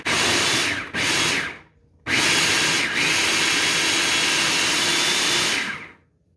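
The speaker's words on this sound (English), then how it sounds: "the food processor is just way quicker" A food processor whirs loudly as it minces a large batch of shallots, running in bursts with short stops between, then the motor winds down to silence near the end.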